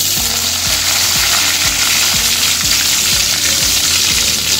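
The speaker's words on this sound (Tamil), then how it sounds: "கடுகு உளுத்தம்பருப்பு பொரியும் போது நம்ம இந்த பச்சை மிளகாயும் கருவேப்பிலையும் சேர்த்துக்கிறோம்" Mustard seeds, urad dal, green chilli and curry leaves frying in a pan for tomato fish rice, a loud close continuous sizzle with crackling spatter and a steady rhythmic scraping pulse running underneath.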